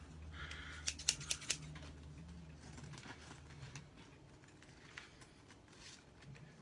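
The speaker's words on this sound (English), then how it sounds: "Got a bigger scissors." A few sharp, quick snips of scissors cutting glitter vinyl sound close by, followed by quieter rustling and handling noises.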